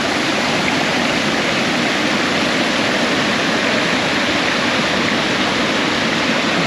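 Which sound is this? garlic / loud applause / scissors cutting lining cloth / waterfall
waterfall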